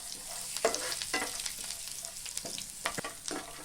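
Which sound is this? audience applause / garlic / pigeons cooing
garlic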